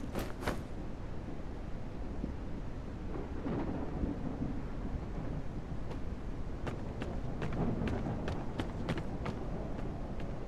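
Thunder from a storm in the survival video game NO ONE: a sharp crack at the start, then rolling rumble over steady rain-like noise, with several faint clicks later and no talking.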